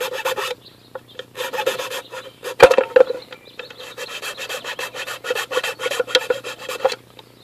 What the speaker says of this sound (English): you'll just have to watch me file for a minute